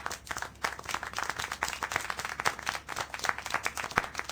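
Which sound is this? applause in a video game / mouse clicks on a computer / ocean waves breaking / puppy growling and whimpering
applause in a video game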